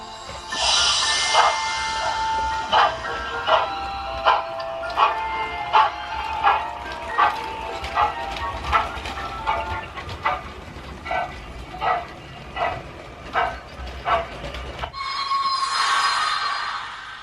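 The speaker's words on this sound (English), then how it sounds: "How is the train moving on its own?" A toy train chugs along in steady repeated bursts, fairly close and loud, ending in a brief whirring rush.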